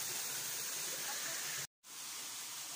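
Steady broadband roar of a waterfall at one of three falls in a single spot, loud and continuous, broken by a brief dropout of total silence before the rush resumes.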